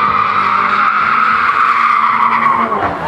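A Cupra car launches in a street drag race in Santa Ana Maya, Michoacán, and its tires give a loud, sustained squeal and skid over a roaring engine that holds nearly constant for the whole stretch.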